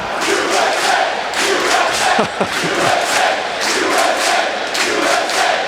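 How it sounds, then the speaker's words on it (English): A hockey arena crowd at Houston Fieldhouse, during RPI men's hockey against McGill, chants in a loud, steady two-beat rhythm, the massed voices repeating again and again through the whole stretch. "Houston Fieldhouse crowd chanting USA"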